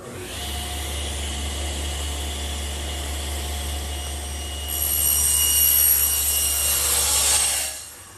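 A table saw hums steadily at idle, then rises into a louder, hissing cut through a wooden blanket chest top panel near the end before winding down, close and without voices.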